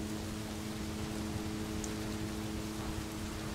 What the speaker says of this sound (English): It is raining and pouring here.